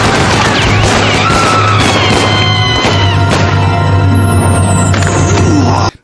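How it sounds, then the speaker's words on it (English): Dense burst of movie gunfire from a drive-by shooting in which a gang guns down an ice cream man, layered with crashes and a steady low hum, loud and continuous for about six seconds before cutting off abruptly. "a drive-by shooting"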